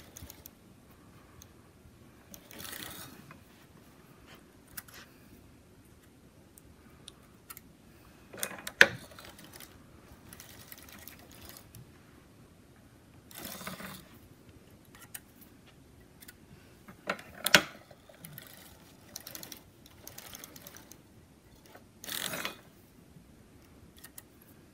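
A circular sock machine knits in a quiet room with faint mechanical ticking and clicking, with occasional louder clacks and short busier bursts spread across a long stretch.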